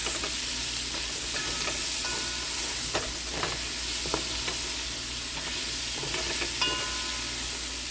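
Ingredients for chicken soup frying and being stirred in a pot, a steady close sizzle with scattered scrapes and clinks throughout.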